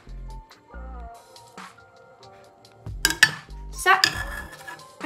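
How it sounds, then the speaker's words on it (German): A spoon stirs milk tea in a cup, bright clinking and scraping of cutlery against the dish in short bursts, after a stretch of quieter humming background. "umrühren."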